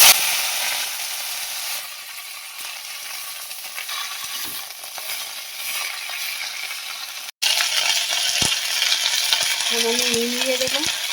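Washed leafy greens are tossed into hot oil in a pan, loud frying hiss that jumps sharply in volume as they hit, then a steady, close sizzle with faint stirring clinks.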